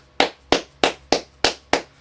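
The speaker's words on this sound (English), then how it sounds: "I'm clapping for myself." Six sharp hand claps from one person at a steady, slightly uneven pace, close and loud with no other sound between them.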